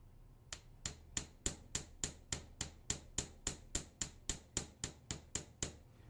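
A small hammer taps jewelry wire in a steady, even rhythm, about fifteen sharp, close strikes with brief ringing between them.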